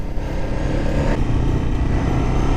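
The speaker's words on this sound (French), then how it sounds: "Puis alors le son du bicylindre quand même." A Ducati 999 motorcycle's twin-cylinder engine drones steadily at close range, a deep throbbing rumble that holds a constant pitch.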